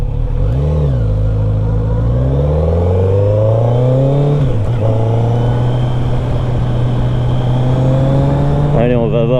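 Kawasaki Z900 RS motorcycle engine while riding, loud and close, with the engine note rising through the revs, a brief dip at a gear change, then holding a steady drone before a quick blip at the end.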